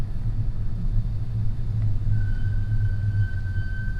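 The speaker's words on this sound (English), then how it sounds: "You hear my brake squeak." Worn brakes on a Toyota Tundra pickup give a thin, steady squeal that starts partway through and holds over the low, constant rumble of the truck rolling along.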